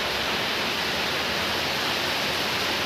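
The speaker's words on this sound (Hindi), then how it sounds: "तो आप भी सुनिए कि कितना ज़ोरों की बारिश थी।" Heavy rain pouring down in a thick, constant hiss, loud and unbroken throughout with no voices.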